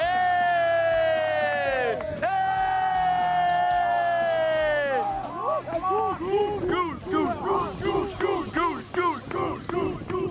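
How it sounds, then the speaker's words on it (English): A large crowd at a Sunday league football match roars loudly in sustained unison for a yellow card, then breaks into rhythmic, pulsing shouts and jeers. "the crowd was at it yet again, shouting for a yellow card there as Larsen caught up and won the ball"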